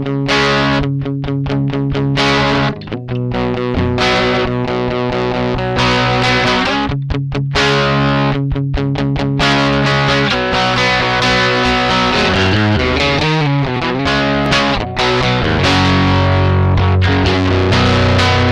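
A Harley Benton TE-20 electric guitar with thick overdrive distortion plays loud chugging chords and riffs, gritty and sustained, with brief choppy stops.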